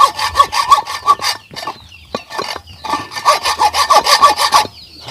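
A metal rice mill shaft sawn by hand, rhythmic rasping back-and-forth strokes in two bursts with a short pause between, loud and close, with chickens clucking faintly in the background.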